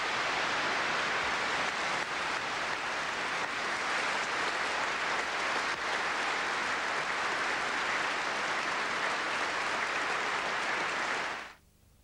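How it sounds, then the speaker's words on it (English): Sustained applause from a large crowd fills Westminster Abbey, steady, dense and reverberant throughout, at a state funeral, then fades away at the very end. "applause slowly swelled around Westminster Abbey"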